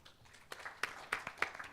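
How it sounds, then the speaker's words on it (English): Short burst of audience applause at a digital transformation conference in Diani, with scattered, fairly sparse claps that build slightly over under two seconds, heard at moderate distance. "Round of applause."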